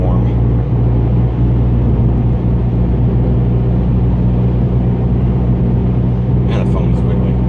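A car engine, running slightly warm, drones on steadily while driving, a loud, unbroken low rumble filling the cabin, with a brief faint higher clatter near the end.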